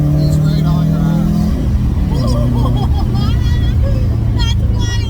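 A boosted Mazda Miata race car revs and accelerates on a track night circuit, engine note rising and shifting loudly while people talk over it.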